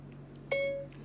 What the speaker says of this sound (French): Je vais mettre au micro.